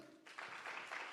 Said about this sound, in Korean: 50대 빨리 손 들어요. 박수 쳐줘요.